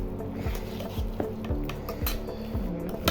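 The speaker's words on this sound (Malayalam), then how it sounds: "ഇത് നന്നായി ഇളക്കി കൊടുക്കാം." A utensil stirs samosa masala filling in a pan, with repeated scraping and clinking strokes against the metal roughly every half second over a faint sizzle, close and clear.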